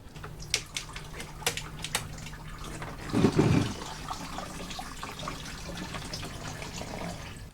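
Coolant drips from a van's radiator while the lower radiator hose is being removed, a faint irregular patter of drops with a brief louder splash partway through, close by, with no talk.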